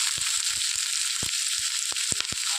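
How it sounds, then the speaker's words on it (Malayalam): Onions sautéing in a pan with garlic and chili for a Kerala snake gourd roast, a constant bright sizzle broken by repeated sharp spoon knocks and scrapes as the mix is stirred. "ഈ സമയത്തേക്ക് നമ്മൾ എടുത്ത് വെച്ചിരുന്ന ആ സവോള ചേർത്ത് കൊടുക്കാം. നന്നായിട്ടൊന്ന് ഇളക്കി യോജിപ്പിക്കുക."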